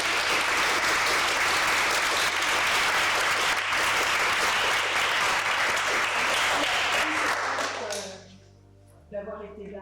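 A theatre audience at a round-table event applauds, a dense, sustained clapping for about eight seconds that fades out, followed by a voice speaking alone.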